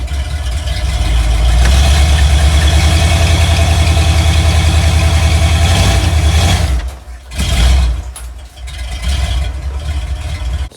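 A 1978 Ford Bronco on 35-inch tires, one of them flat and damaged, idles loudly and steadily close by while loaded on a trailer, then its engine drops away briefly and revs back up near the end.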